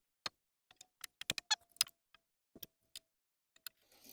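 A hammer taps at screws with stripped heads set in a wooden door frame of a forest cabin, a series of sharp, irregular close knocks and clicks separated by brief silences.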